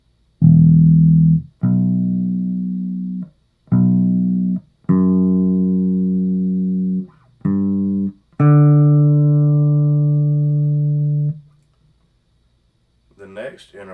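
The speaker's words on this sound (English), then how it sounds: "The next interval is called the perfect fifth, and it is 7 half steps away from the original note." Bass guitar playing a perfect fifth interval: a series of plucked, ringing bass notes alternating between two pitches, then a final longer sustained note, followed by a faint brief voice at the end.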